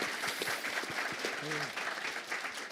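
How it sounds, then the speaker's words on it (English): Quiet scattered applause from a RuneFest panel audience patters steadily throughout, with a voice briefly heard over the clapping. "Big round of applause for Mods Blkwitch."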